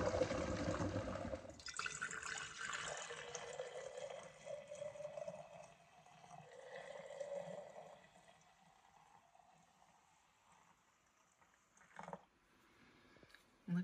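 Bone broth is strained and poured, a close liquid splash and trickle that tapers into faint dripping, with a brief clink near the end.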